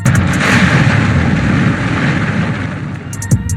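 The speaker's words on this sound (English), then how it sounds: "look at that explosion" A huge, loud explosion roars with sustained low rumbling debris noise throughout, ending with a few sharp pops and crackles.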